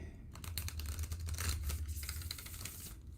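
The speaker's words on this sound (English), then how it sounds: "do a quick shuffle here" A deck of 36 oversized Lenormand cards is shuffled by hand, a close, busy run of papery riffles and flicks with no voices.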